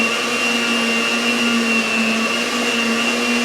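An electric mixer whirs steadily at close range as it beats a cream cheese and peanut butter cup dip, giving a constant high motor whine with no pauses.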